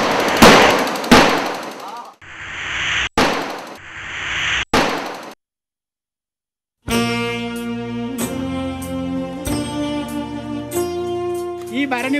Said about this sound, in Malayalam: തട്ടകം നടങ്ങുമാറുച്ചത്തിൽ വെടിക്കെട്ട് നടത്തി പിരിയുകയാണ് പിന്നെ